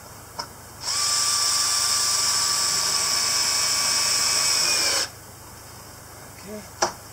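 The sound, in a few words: power drill driving a screw into wood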